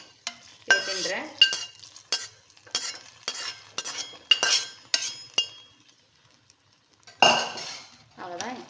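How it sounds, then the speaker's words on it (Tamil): A metal spoon scrapes and clinks in a pan as ingredients roast for sakkarai pongal, in irregular close bursts of stirring with soft sizzling and a few pauses. "இப்போ இது வறுபட்டுறது. இது அப்படியே சக்கரை பொங்கலில் எடுத்து போட்டுடணும்."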